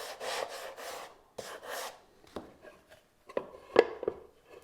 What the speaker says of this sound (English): I am just very lightly sanding that